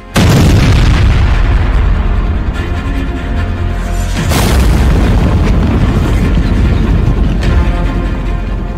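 Loud, dense booming blasts from a long-range missile strike on Ukraine, with a heavy roar sustained across the clip and a fresh sharp explosion midway.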